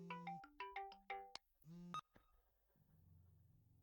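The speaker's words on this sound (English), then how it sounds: "Your phone started ringing" A mobile phone ringtone plays a quick melodic run of bright electronic notes for about two seconds, fairly quiet and close, then fades into a low hum.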